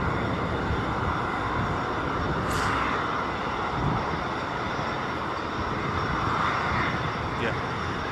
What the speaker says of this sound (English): That is most definitely a Malaysian 737 MAX there